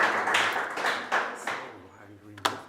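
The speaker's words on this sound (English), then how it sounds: "people applaud" Brief clapping from a small meetup audience, a few scattered hand claps over voices that fade out, ending in one sharp tap.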